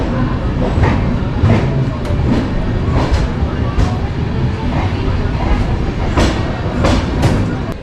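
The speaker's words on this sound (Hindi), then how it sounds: "तो गाइज हमारे ट्रेन धनबाद से निकल चुके हैं" The West Bengal Sampark Kranti Express runs on rails after leaving Dhanbad. Its wheels beat out a steady, rhythmic clickety-clack over the loud, continuous rumble of the moving carriage.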